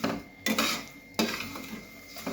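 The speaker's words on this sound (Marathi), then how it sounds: "आणि हलवत राहायचं." A utensil scrapes and knocks against a pan while vermicelli is stirred and roasted on a low flame, with three or four distinct clattering strokes separated by quieter scraping and a faint sizzle.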